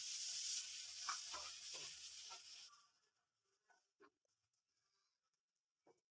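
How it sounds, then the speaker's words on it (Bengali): Chopped onion and green chilies sizzle loudly in hot oil for a shrimp bhuna, a dense close hiss that cuts off after a few seconds into near silence broken by a few soft clicks. "পেঁয়াজ ভাজা হয়ে গিয়েছে"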